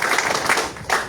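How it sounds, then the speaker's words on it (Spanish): Rhythmic group clapping, the Aprista palmas, from a crowd at a political party meeting in Peru, with a steady cadence of unison claps at close range and no talk over it. "Palmas apristas, compañeros."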